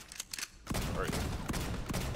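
Bursts of gunfire striking the player in the video game Borderlands 3, rapid shots that swell louder after a brief lull, with a voice faintly mixed in.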